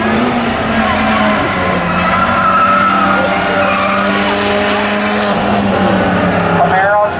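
A Camaro and a Mini Cooper race at Birch Run Speedway, with tires squealing loudly as the cars skid and slide through a turn. Engines rise and fall over crowd noise, and the squeal trails off near the end.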